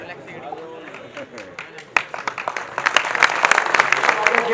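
An audience applauds at a poetry gathering in a hall. The clapping starts scattered and builds into a dense, loud ovation with voices underneath.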